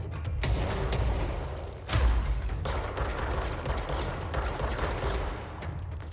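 Bombs go off in the video game Control amid a rapid barrage of blasts and gunfire-like bursts, loud and dense with a heavier boom near the two-second mark.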